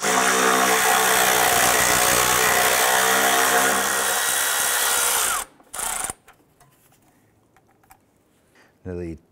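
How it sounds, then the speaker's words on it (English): A power tool removes a 10 mm bolt from the ABS module bracket on a 2001–2005 Honda Civic, a loud steady whine running for about five seconds before cutting off, followed by a couple of short bursts. "I'm going to remove this 10 millimeter bolt right here."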